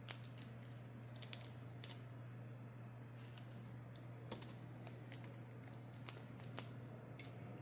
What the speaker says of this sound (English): Now I got to cut another piece of tape.